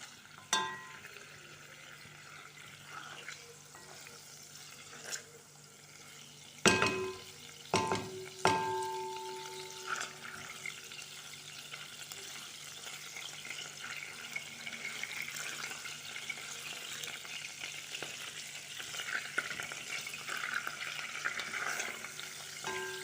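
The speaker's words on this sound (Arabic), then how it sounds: "كيبدا البيض كيبدا يتقلى معنا الدجاج، نقليوه مليح" Chicken and egg frying in a pan while making a turnip soup, a low steady sizzle with scattered stirring clatter and a few sharp utensil knocks, quiet and close, no talk.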